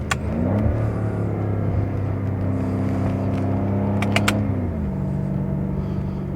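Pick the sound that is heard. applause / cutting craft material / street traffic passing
street traffic passing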